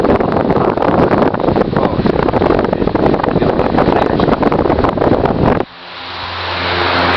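A steady, loud rushing drone of a Toshiba EL-70C2 oscillating fan running, which suddenly cuts off and gives way to a fading tonal hum as the blades spin down.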